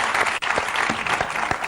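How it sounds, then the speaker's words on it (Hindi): A studio audience at The Kapil Sharma Show breaks into loud, dense applause, many hands clapping close together in a continuous burst with a few distinct claps standing out. "अब्बास मस्तान जी के लिए जोरदार तालियां हो जाए एक बार"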